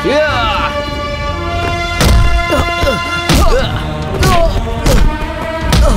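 Heavy punches and thuds land in a dubbed South Indian action film fight scene, a series of loud impacts every second or so over a tonal music score, with occasional whooshes between blows.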